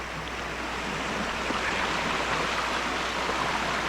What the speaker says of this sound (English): Just getting a little bit of splashing on my tennis shoes